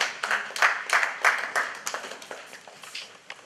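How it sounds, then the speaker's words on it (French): A church congregation claps and applauds for the Lord during a seminary service, a brief burst of many hands clapping together at close range that rises, then thins out and fades. "Acclamons encore pour le Seigneur"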